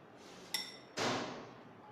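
A chicken mayonnaise salad with apple, salt and black pepper being mixed in a bowl: a couple of sharp utensil clinks and a short scraping swish, close and fairly quiet.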